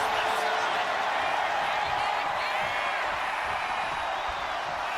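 Crowd noise from a WWE 2K25 wrestling video game match, a steady loud roar with scattered whoops running without a break under the action.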